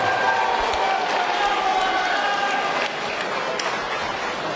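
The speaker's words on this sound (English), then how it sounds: "Great cheer of appreciation from the crowd here at York Hall for Jake Henty" A crowd at a boxing event at York Hall in London cheers and applauds in a continuous, dense wash of clapping and voices that dips slightly near the end, while speech runs underneath.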